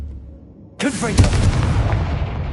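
Confringo blasting spell from Hogwarts Legacy going off after a quiet moment: a sudden loud burst with a whooshing rise, followed by booming, crackling rumble that lingers.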